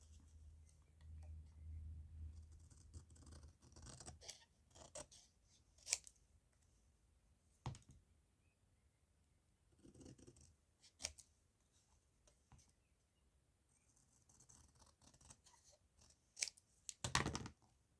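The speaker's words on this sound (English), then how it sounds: "No, I'm just going to fussy cut or trim it down." Scissors snip through tissue-box cardboard for a handmade card, with a few quiet isolated cuts spaced out and a louder close cluster of snips near the end, no talking.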